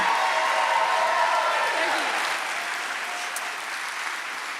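A festival program launch crowd applauds performers, a thick wash of clapping that starts strong and gradually thins and softens toward the end, with a voice briefly heard under it.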